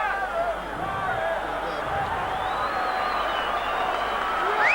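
Stadium crowd at a Wigan versus St Helens rugby league match cheering and roaring steadily, a dense sustained swell of voices and whistles filling the whole stretch at a loud, even level.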